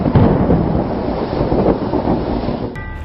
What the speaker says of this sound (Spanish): Después se oyó como un estruendo de truenos y los cielos se encendieron con los rayos.